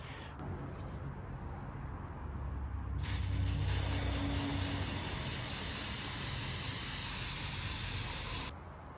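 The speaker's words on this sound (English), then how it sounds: "I'm gonna get some copper spray." An aerosol can of copper gasket spray hisses in one long continuous spray for several seconds close by, then cuts off abruptly, over a low background hum.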